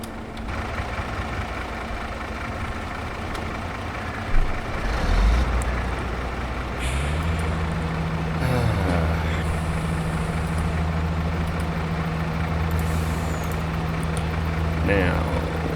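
Farming Simulator 22 harvester unloading grain into a truck in a canola field: steady low engine drone with a heavier engine note joining partway, a thump near the middle, continuous throughout.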